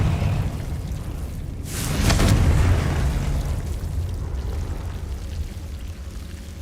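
A Confringo blasting spell in the Hogwarts Legacy video game erupts in a single loud, booming burst about two seconds in, then trails off into a sustained rumbling roar beneath steady background game noise.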